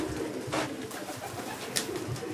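Soft pigeon cooing over a steady background hiss, a few low murmuring calls spread through the moment, with a brief sharper click near the end.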